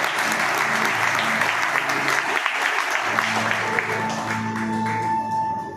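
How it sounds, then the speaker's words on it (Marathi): An audience claps loudly for the musicians at a Marathi music program in Washim, with steady, dense applause that sustains throughout and tapers slightly toward the end. A little crowd noise sits underneath. "या सगळ्यांसाठी एकदा जोरदार टाळ्या वाजल्या पाहिजे"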